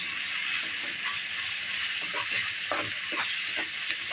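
Chili powder sautés in a pan for cabbage sambar, giving a steady hiss and sizzle with occasional soft stirring scrapes, moderately close and without talk.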